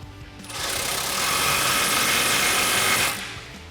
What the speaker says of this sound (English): tighten that down with a 15mm socket